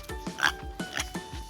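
A voice imitating a pig, giving a quick run of short nasal oinks in a rhythmic series of about six grunts, close and fairly soft, with no other sounds around it.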